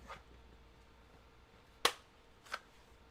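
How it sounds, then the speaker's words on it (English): G3 battle rifle firing .308 rounds in a Metal Gear Solid video game: a faint pop at the start, then one sharp, loud gunshot and a softer second shot a moment later over a quiet background. "How about a G3 battle rifle?"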